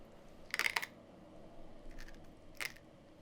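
Toasted rice for a chicken larb salad gives off crisp, dry crackling bursts up close: one longer rustle, then two brief quieter ones, with near silence between.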